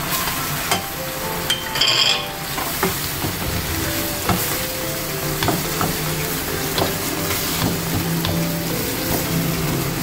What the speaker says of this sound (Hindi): थोड़ी देर तक इसको फ्राई करूँगी अदरक लहसुन की पेस्ट के साथ